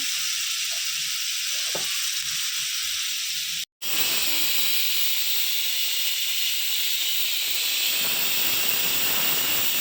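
Chicken leg pieces fry in hot oil at home, giving a loud, steady sizzle and hiss that runs almost unbroken, with one sharp gap partway through, and quiet bubbling beneath.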